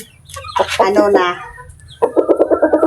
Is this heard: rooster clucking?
yes